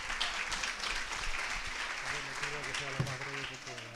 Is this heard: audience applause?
yes